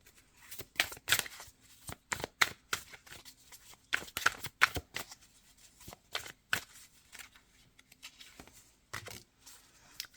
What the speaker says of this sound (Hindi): एक कार्ड मुझे लगता है मुझे और निकालना पड़ेगा।